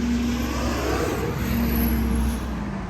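A Mazda CX-90 engine runs after being started remotely through a phone app, giving a steady, fairly loud idle hum with a constant low drone and no other sounds.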